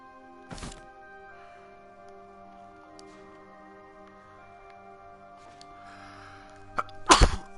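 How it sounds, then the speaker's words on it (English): Two sharp, close sneezes, a short one near the start and a louder one at the end, stand out over a quiet steady hum with faint ticking. "Sneezing."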